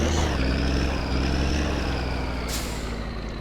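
A truck pulls up in the driving game My Summer Car: a loud, steady engine rumble with a short, sharp hiss of the air brake near the end, and no talking.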